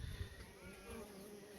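A swarm of Carniolan honey bees gives a soft, continuous buzzing hum, faint and steady, with a brief low thump at the start.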